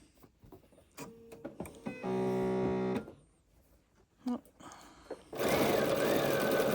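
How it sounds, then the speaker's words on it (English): A sewing machine stitches fabric pieces in short bursts, a buzzing mechanical whir for about a second, pauses with small handling clicks, then a louder sustained run at the end. "just stitching right through the fold and everything, all the way down"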